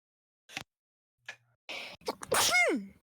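A single person sneezes once in a quiet room, a couple of short sharp breaths building up to a loud, drawn-out sneeze that trails off, with no talking alongside.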